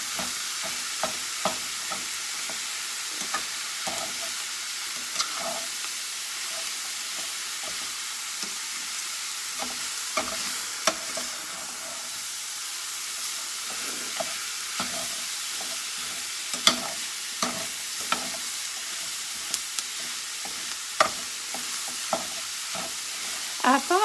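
Raw ground meat sizzles and fries in a pan for a stuffing dish while a utensil breaks it apart. A steady close sizzle runs throughout, with frequent scraping and tapping clicks on top.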